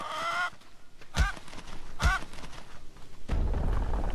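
A chicken in the horror game Hollow Cocoon lets out two loud, honking squawks about a second apart, followed by a burst of rumbling game noise.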